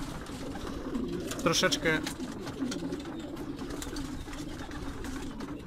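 Pigeons in a breeder's loft coo softly and repeatedly in the background while someone talks over them, with a brief louder flurry of cooing and wing rustle near the start.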